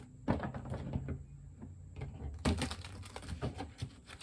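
Soft papery shuffling and light riffling clicks from an oracle card deck, close and quiet, in two bursts with a short pause between.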